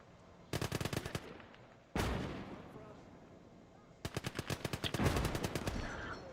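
WW2 infantry gun firing in the real-time strategy video game Gates of Hell, with a heavy boom and a long decaying rumble set between rapid bursts of close machine-gun fire.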